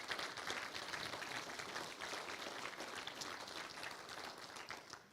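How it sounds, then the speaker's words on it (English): Audience applause for honorees joining a Missouri walk of fame, a faint, even wash of many hands clapping that holds steady throughout, then tails off slightly at the end. "let's give another big round of applause to those who are being added"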